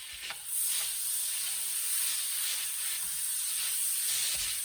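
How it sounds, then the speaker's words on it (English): Garlic sizzles steadily in a hot frying pan, a constant bright hiss with occasional soft stirring scrapes. "once you got this cooking, kind of frying, kind of sizzling like this"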